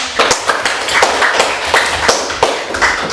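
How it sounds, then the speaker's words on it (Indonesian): Audience applause for a student group at a university teaching session: a short burst of brisk, close hand clapping from a small crowd, with uneven bunched claps and no voices. "Kita kasih aplaus buat kelompok organ"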